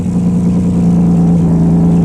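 A Ford truck V6 engine fitted with a motorcycle exhaust muffler runs loud and close, holding a steady, droning buzz at high revs with a strong low tone and no letup.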